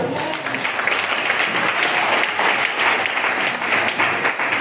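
A church congregation applauds the Lord with loud, sustained clapping that fills the whole stretch as a dense, steady roar of many hands, with no voices standing out.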